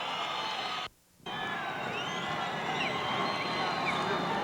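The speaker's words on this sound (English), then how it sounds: "a standing ovation will tell him that he certainly has" Boxing crowd at a pro fight between Frankie Archuleta and Lewis Wood rising in a standing ovation late in the bout, a loud, sustained roar of cheering and shouting that cuts out briefly before swelling back.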